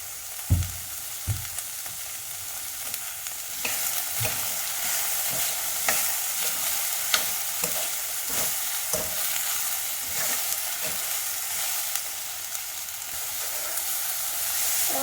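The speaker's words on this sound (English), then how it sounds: "It is almost at a high flame. It's almost 1 minute since I am roasting it." Brown rice roasting in a pot over a high flame, giving a steady broadband sizzle and hiss with repeated scraping stir strokes, close and continuous for the whole stretch with no talking.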